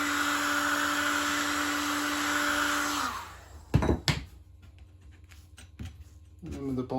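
Heat gun warming sheet vinyl flooring, a steady loud blowing whine with a tonal hum that cuts off after about three seconds, followed by a couple of sharp knocks, light handling noises and a voice speaking.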